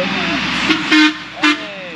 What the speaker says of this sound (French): Et ça klaxonne.